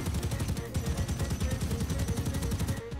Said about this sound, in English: You fire enough rounds into the sky, you're gonna hit something.